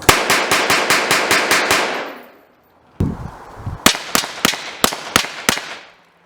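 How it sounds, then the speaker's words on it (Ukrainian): Two rapid series of loud rifle shots hitting an LPG gas cylinder, each crack ringing with a metallic clang, a short pause between bursts and echoes decaying after each string. "Для впевненості у результаті зробили контрольну серію пострілів, і жодна куля не пробила балон."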